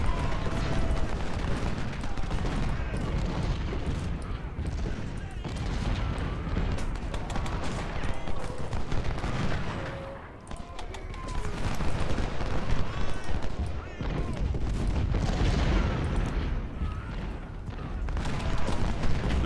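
Artillery booms and crackling musket volleys rumble continuously through a Civil War battle in Ultimate General: Civil War, fairly faint and distant, with a steady wash of massed gunfire and a brief lull midway.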